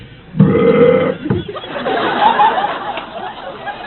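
A loud, drawn-out stunt burp lasting under a second, followed by a room of people chattering and laughing at a voice actor panel.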